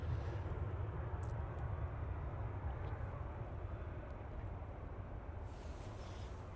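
A Qatar Airways Boeing 787-9 Dreamliner rolls along a runway at Manchester Airport, a steady low engine roar that holds broad and constant throughout without fading.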